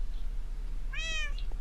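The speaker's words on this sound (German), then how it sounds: "Oh, die arme Katze." A cat meows once in the Minecraft video game, a short, clear, bright call over a steady low background hum.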